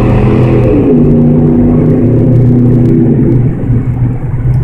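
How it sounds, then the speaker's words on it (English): A Ford truck engine revving hard and close after the throttle body is opened, a loud steady roar with rising and falling pitch that eases slightly near the end, with no talking. "let me open up the throttle body a little bit"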